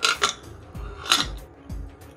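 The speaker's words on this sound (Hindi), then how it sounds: "अब ढक्कन बंद कर देंगे" Metal lid of a pressure cooker being fitted and locked shut after adding water to moong dal, giving a few sharp clinks and scrapes at close range with no talking.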